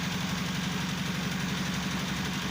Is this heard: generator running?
yes